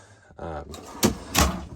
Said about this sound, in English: And then this drawer comes out all the way.